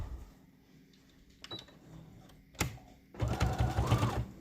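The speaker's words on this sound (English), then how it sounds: "Okay, and we're going to back stitch, as you can see, close to the edge." Sewing machine back stitching along the edge of a fabric mask filter pocket with nose wire, a quiet whir and tap before a louder, steady rapid stitching run near the end.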